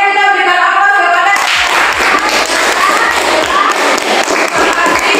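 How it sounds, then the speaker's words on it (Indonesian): Students in a classroom applaud together, bursting into dense, loud clapping from many hands right after a brief voice, and the clapping keeps going steadily to the end. "Oke, kita berikan aplaus kepada"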